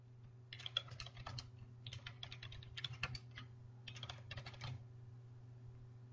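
Fingers tap out a project name on a computer keyboard in quick bursts of close, crisp clicks separated by short pauses, over a faint steady electrical hum.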